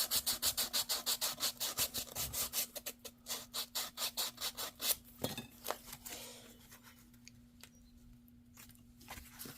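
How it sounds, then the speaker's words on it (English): Packaging material is sanded by hand to make junk journal ephemera, a close, quiet rasping in a fast regular rhythm of back-and-forth strokes that slows and becomes sparser toward the end. "Oh, need a little more sanding, Miriam."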